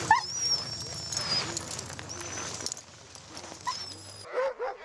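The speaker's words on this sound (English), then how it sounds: "The sled dogs get very excited when the belts are tightened around their bodies." Alaskan Husky sled dogs being harnessed bark, yip and whimper excitedly in quick overlapping bursts, close and fairly loud, with a background hum and a person speaking briefly.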